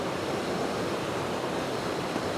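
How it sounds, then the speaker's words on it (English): Clear water flows between rocks in a Glen Etive stream, a steady broadband rush and gurgle without pause, fairly close and even throughout. "the water flowing down in front of me between the rocks"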